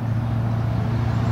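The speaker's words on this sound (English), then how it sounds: "30 yards away is actually a fairly busy road here by the backyard" Steady low rumble of traffic on a fairly busy road about thirty yards from a backyard by a pond, a continuous droning hum of passing cars with no break and no voices.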